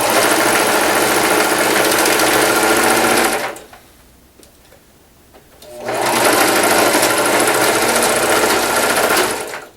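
Sewing machine back stitching the edge of a haunt costume robe, running loud and steady, stopping for a couple of seconds, then racing again.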